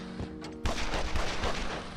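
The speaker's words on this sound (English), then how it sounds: "you can hear just from the gunshots just how long it takes these guys to die" Rapid gunfire from the video game Evil Genius, a dense burst of overlapping shots and impacts after a quieter opening, sustained and loud through the rest.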